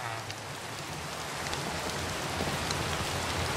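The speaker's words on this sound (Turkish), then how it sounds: "Ama nasıl yağmur yağıyor ya?" Steady rain falls in Minecraft, a dense, even hiss of drops that holds at a constant loudness throughout with no talking over it.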